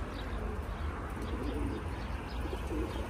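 Soft Hünkâr pigeon cooing, low and repeated, against a steady background hiss, with a faint chirp here and there.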